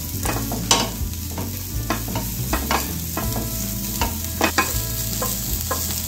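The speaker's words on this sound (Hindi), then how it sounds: "सभी को चलाते हुए अच्छे से भून लेंगे" Chopped onion sizzles steadily in a pan while a spoon scrapes and knocks against the metal in an uneven stirring rhythm, close and fairly loud, with no voices.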